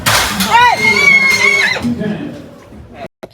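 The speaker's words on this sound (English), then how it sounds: "these ponies are fighting too much" Ponies in a horse auction pen squeal and whinny as they fight, a loud, shrill neigh close by lasting about a second, with a rough scuffle before and quieter noise trailing off.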